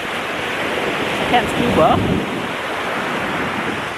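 Open-ocean waves and gusting wind wash around someone floating on the sea off Maui, Hawaii, in a constant broad rush, with a person speaking briefly partway through.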